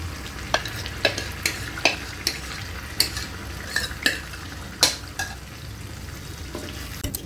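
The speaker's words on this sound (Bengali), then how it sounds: "আমি এবার যে সেদ্ধ করে রাখা ডালটা ছিল ওটা দিয়ে দেবো পুরোটাই দিয়ে দেবো" Boiled dal stirred into fried masala in a pan, a spoon scraping and clinking against the metal in repeated strokes over a low continuous sizzle, close and alone.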